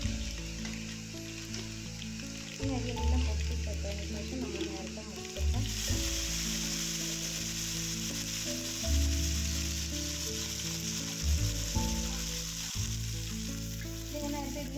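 Chopped leaves sizzle in hot oil in a pan with dried chillies while a Kerala leaf curry is cooked, giving loud, steady frying with surges as the leaves hit the oil. No one speaks.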